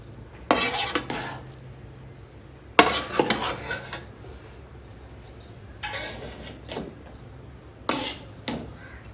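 Metal spoons clink and scrape against dishes at a home meal, in a few short bursts of rattling with quiet pauses between, close by and fairly loud.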